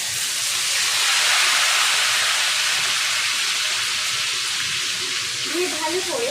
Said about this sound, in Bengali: পেঁয়াজ আমি পেস্ট করে রেখে দিয়েছি, এবার আমি ঢেলে দেব।